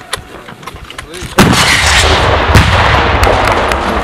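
Loud bursts of gunfire at a shooting training range, a few sharp cracks early on and then heavy sustained firing that keeps going to the end, heard close by with no talk over it.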